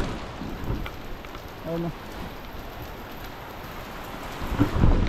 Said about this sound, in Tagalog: Maliligo tayo sa ulan.